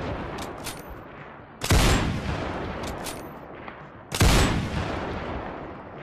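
Two loud, sharp gunshots a few seconds apart while trying out guns in the VR game Ghosts of Tabor, each followed by a short echoing tail over a low background hum.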